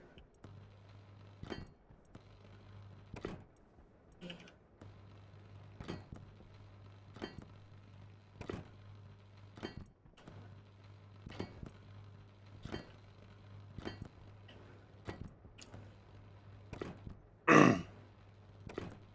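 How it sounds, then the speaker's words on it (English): Welding in the video game Stationeers: short, regularly spaced bursts of welding noise repeat over a low steady hum, with one louder, longer burst near the end. "let's weld all this up"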